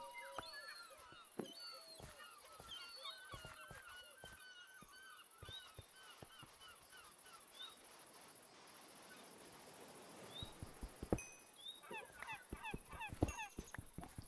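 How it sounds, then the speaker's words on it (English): Seagulls call repeatedly in a Minecraft beach world, with honking cries scattered throughout and a busier cluster near the end, over faint ambient noise. "Seagulls."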